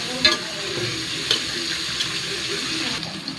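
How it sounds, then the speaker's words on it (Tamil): Sliced onions and green chillies sauté in a pan for double-bean biryani, giving a soft, steady sizzle with a few light clicks of stirring close by. "கட் பண்ணி வச்சுக்கிற வெங்காயத்தை போட்டுக்கலாம். ஒரு 4 பச்சை மிளகா கோல்டன் கலராக வர வரைக்கும் நம்ம வதக்கணும்."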